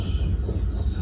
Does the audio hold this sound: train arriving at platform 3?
yes